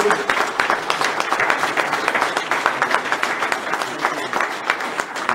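Audience applause breaks out at the podium of a French predator-fishing championship, the Mercury Fishing Cup, a dense steady clapping crowd sustained throughout with no speech over it.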